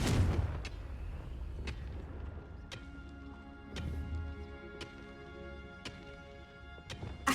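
Confringo fire spell blasts in the video game Hogwarts Legacy: a string of about eight sharp explosive cracks, evenly spaced roughly one second apart, over a low rumbling game soundtrack.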